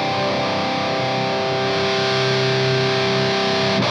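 A Digitech DF-7 Distortion Factory pedal drives a guitar into a dense, loud sustained distorted tone, held steadily close up for the whole stretch with no talk.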